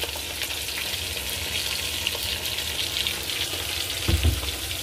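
Pieces of fish fry in mustard oil with a steady, close crackling sizzle, and a soft knock of a pan or utensil comes near the end.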